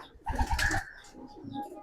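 A racing pigeon coos softly nearby, a low throaty burble that swells briefly and then trails off into quieter cooing.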